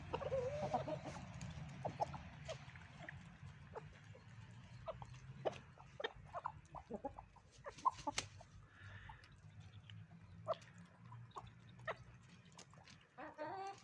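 A rooster and hens cluck and call faintly and intermittently in a quiet farmyard, with scattered short bird sounds.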